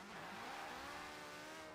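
A Porsche 918 in Forza Horizon 4 accelerates hard from a standstill to 60 mph, giving a steady, dense engine roar that holds at constant loudness with no speech over it.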